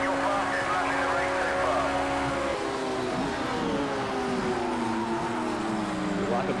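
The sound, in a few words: race car engines in Project CARS 2 video game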